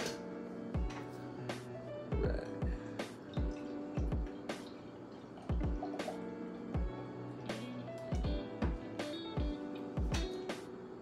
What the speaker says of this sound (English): Let's pour this up.